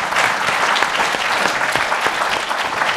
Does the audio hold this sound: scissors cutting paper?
no